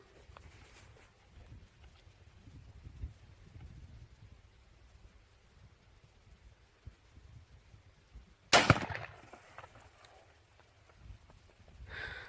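A single loud rifle shot from a .444 Marlin firing a Hornady LEVERevolution 265 grain load cracks sharply outdoors, then trails off into a short echo over faint background noise.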